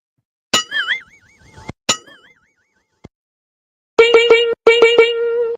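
Bell dings ring out as a sound effect, a couple of separate bright strikes with wavering tails, then a quick click and two sustained ringing tones near the end.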